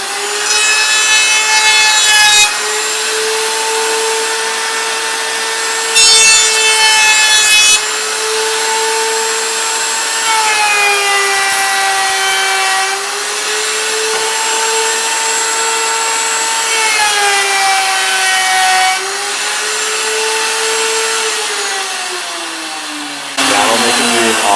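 A router table cuts a groove into a wooden sign, its motor whining loudly and steadily with the pitch dipping and rising as the workpiece feeds through, ending as the motor winds down.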